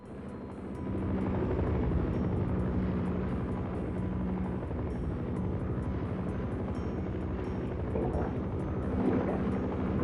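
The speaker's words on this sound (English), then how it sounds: "all while avoiding the helicopter firing at us" In the video game Half-Life, a steady, droning attack helicopter rotor and engine noise fills the whole stretch, with a faint rapid rattle of its gunfire mixed in.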